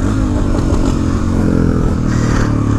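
BMW GS650 motorcycle engine running close by, a loud steady rumbling idle with a rough pulsing texture and light mechanical clatter, no voices.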